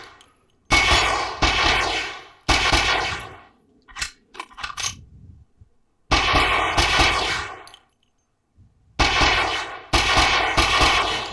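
Gunfire from a video game comes in loud rapid bursts of automatic shots separated by silent gaps, with a few short metallic clicks and clanks in between.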